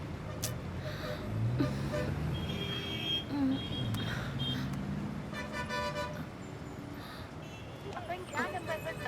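Dense city traffic rumbles steadily with several short car horn toots near and far, while people talk over it.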